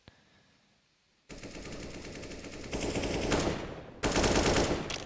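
Gunfire in Counter-Strike on the Inferno map, shots fired through a wall: steady automatic bursts that grow louder after a quiet start, then a brief lull before a final loud burst.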